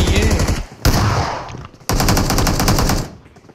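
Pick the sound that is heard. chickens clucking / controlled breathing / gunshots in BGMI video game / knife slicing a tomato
gunshots in BGMI video game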